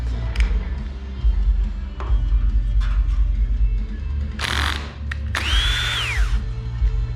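A power drill tightening screws in an audio rack, with short whirring bursts and a rising and falling motor whine over a low steady rumble, close and loud.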